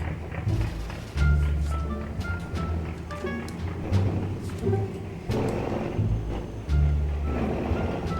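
A Hino Victor 500 truck backs up in Farming Simulator 25, its reversing alarm beeping in a steady repeated rhythm over the low rumble of the diesel engine, with faint intermittent clunks.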